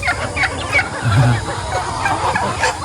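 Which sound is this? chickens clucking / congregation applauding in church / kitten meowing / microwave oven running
chickens clucking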